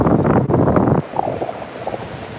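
Outdoor wind buffets the microphone in a loud gust for about a second, then drops to a quieter, uneven rustle.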